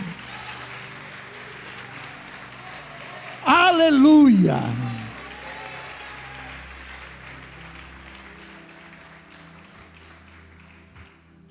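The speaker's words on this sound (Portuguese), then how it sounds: "Pode aplaudir e glorificá-lo." A church congregation applauds during a sermon at the Lord's Supper service. The clapping is a soft, steady wash that runs under a loud spoken exclamation and then fades gradually.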